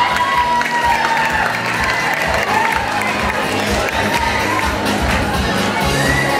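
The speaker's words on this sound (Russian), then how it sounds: "И еще раз поприветствуем наших участников бурными аплодисментами." Audience at a children's dance festival bursting into steady, loud applause, with cheering and shouts from the crowd mixed into the continuous clapping throughout.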